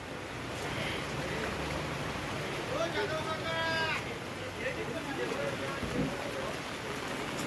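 Heavy rain pours down over the open-air Sunday market at Sawarde near Chiplun, a dense steady hiss that runs throughout while people talk and move among the stalls.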